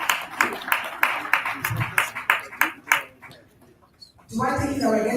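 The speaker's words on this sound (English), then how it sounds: "the sound of the round of applause" Applause at an AfCFTA summit: a run of sharp, rhythmic claps rings out for a few seconds, then fades, and a voice begins speaking over a room tone.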